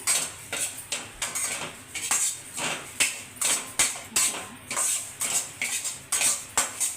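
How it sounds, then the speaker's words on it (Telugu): Wheat semolina roasting in ghee over a low flame is stirred with a spoon, giving a regular run of sharp metal scrapes and clinks against the pan, close and fairly loud. "ఒక కప్పు గోధుమ రవ్వ వేసుకుందామండి దీన్ని బాగా కంటిన్యూగా తిప్పుతూ ఉండాలి సిమ్లో పెట్టుకొని"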